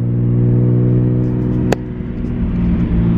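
A Nissan Skyline GT-R engine with an HKS Racing Suction intake rumbles steadily at close range with a low droning tone, plus a brief sharp click partway through.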